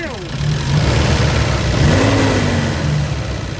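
A car engine revs up from idle, a loud mid-pitched roar that rises and holds before easing off, with a voice talking over it.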